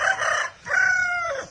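A rooster crows loudly and close by, two long strained calls in quick succession with a short gap between them.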